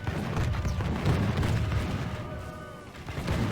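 Massed musket volleys in a Total War battle crack and boom in rolling bursts, dense and loud over a rumbling battlefield din, close and continuous.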